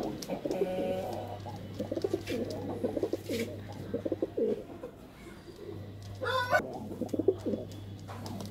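Highflier pigeons coo softly and repeatedly at a moderate distance, with faint rustling and occasional other bird calls around them.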